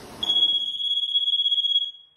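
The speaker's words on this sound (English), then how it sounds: "Safety first with our pool alarms." A single shrill electronic pool alarm beep, high-pitched and steady, sounding loudly for about two seconds before cutting off.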